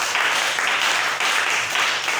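A church congregation applauding in praise, dense steady clapping from many hands filling the room, loud and continuous with a faint murmur of voices underneath.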